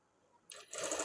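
A domestic sewing machine stitching the neck lining of a blouse, a short close burst of quick whirring that starts softly and then speeds up and grows louder, with no talk.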